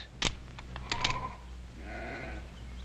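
Sheep bleat in a Western ranch setting, a drawn-out bleat rising after a few sharp clicks and knocks, fairly faint against a steady background hum.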